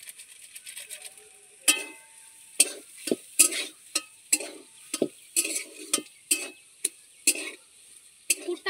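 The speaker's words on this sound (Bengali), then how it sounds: "সবশেষে এর মধ্যে একটু গরম মশলা দিয়ে আমি কষিয়ে নামিয়ে নেব।" A spoon stirs a potato and egg filling with garam masala as it fries in a pan, giving a run of sharp, irregular scrapes and knocks over a faint, steady sizzle.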